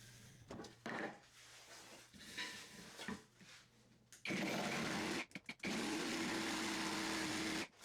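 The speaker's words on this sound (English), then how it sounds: "there's going to be lots of ripping cuts involved, which are harder to do on the jigsaw" A WoodStarter 18V brushless jigsaw ripping along 1x4 wood: light knocks and handling at first, then a loud, sustained buzzing cut that breaks off briefly with a few stutters before resuming steadily.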